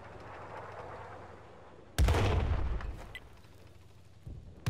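Artillery bombardment in a video game: a loud, close blast at about two seconds rolls into sustained booming rumble that fades, with a smaller report near the end and low background battle noise.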